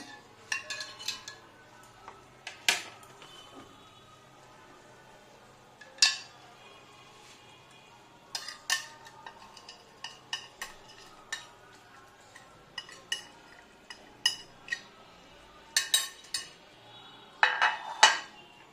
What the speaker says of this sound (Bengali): নাড়াতে থাকবো তেল ছাড়া পর্যন্ত